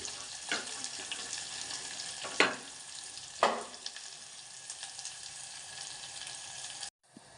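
Onions and garlic with curry leaves frying in a tempering for tamarind sambar, a steady close sizzle with a few sharper bursts and clinks as pieces hit the oil, then a sudden drop near the end.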